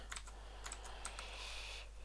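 Quick, light keystrokes on a computer keyboard, typed while writing D-language code. The clicks come in small irregular bursts, faint and close, with no voices over them.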